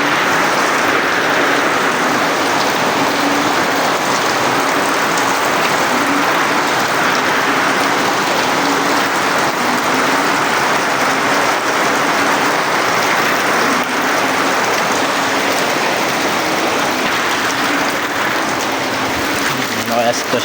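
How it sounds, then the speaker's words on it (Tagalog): Heavy rain pouring during a typhoon in a rural Philippine province, a loud, dense, continuous hiss of downpour on surfaces lasting throughout. "Lakas pa rin ng ulan."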